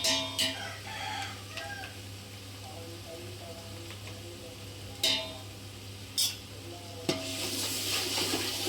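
Onions with ginger-garlic paste sauté in a pan for biryani, giving a low steady sizzle with a few sharp scrapes of stirring. A steady hum runs underneath the cooking.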